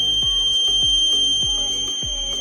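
A piercing electronic buzzer alarm from a home security theft detection setup triggered by an IR sensor, a steady shrill high tone over a repeating pulsing low thump, loud and close.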